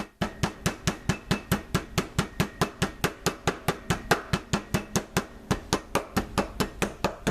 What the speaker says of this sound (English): we hammer these a little bit thinner